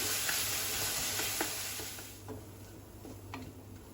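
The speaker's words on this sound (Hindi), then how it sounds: "धीरे धीरे इसे भूनते रहेंगे।" Onion, ginger and garlic fry with a soft, steady sizzle, broken by a few light spoon scrapes; the hiss grows fainter as it goes on.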